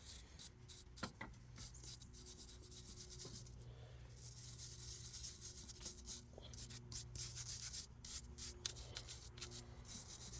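Repeated scrubbing strokes work surface rust off a rear brake part from a 2018 Subaru Forester, a steady close rasping rub lasting several seconds with no talk.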